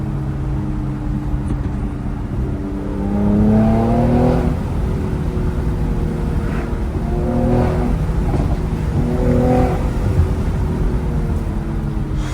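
A Mercedes-AMG C43 being driven with its engine running, rising through revs in repeated pulls with gear changes, steady road roar underneath, close and continuous.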